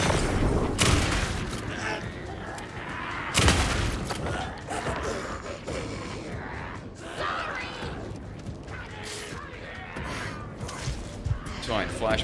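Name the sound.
flashbang explosion in video game Alan Wake 2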